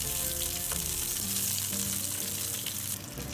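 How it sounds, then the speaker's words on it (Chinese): Scallions and shredded ginger crackle and sizzle in hot oil in a wok, a steady close frying hiss with no voices. "锅内重新放入2勺油，放入小葱和姜丝爆香"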